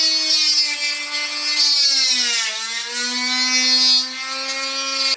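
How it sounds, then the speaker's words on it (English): A small Forstner bit in a drill bores into a wooden phone case for a Galaxy 6, a loud, close, high whine that sags briefly in pitch under load mid-cut and then recovers, with no speech. "I'm going to use a small Forstner bit to try and minimize tear out on the back side."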